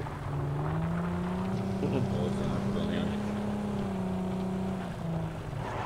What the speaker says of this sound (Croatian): To se čuješ jedan auto.